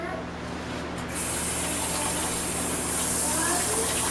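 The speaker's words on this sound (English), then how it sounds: "Let me wash my hands real quick, y'all." Tap water gushes steadily and loudly into a kitchen sink during handwashing, a continuous hissing spray that grows slightly stronger after the first second.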